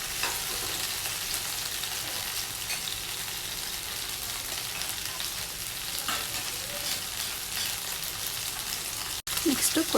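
Tomatoes and oil frying in a pan, a steady broadband sizzle running continuously throughout with occasional stirring scrapes, close and fairly loud, with a brief dropout near the end.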